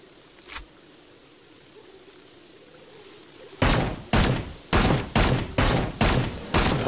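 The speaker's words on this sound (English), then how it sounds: "that's some amazing shooting there" Gunshots in the VR video game Seeking Dawn: after a quiet stretch with one faint pop, six loud, evenly spaced shots fire in quick succession, close and punchy.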